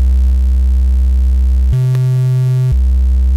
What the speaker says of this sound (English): And we've got a triangle wave, which sounds like this.